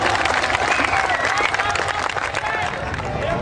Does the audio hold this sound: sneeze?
no